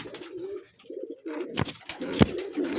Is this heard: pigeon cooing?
yes